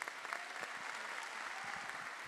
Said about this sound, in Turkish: Onları yürekten alkışlamanızı istiyorum.